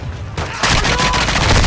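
Gunfire in the DMZ video game erupts as a loud, dense burst of rapid shots and booms, starting suddenly and continuing as a sustained volley.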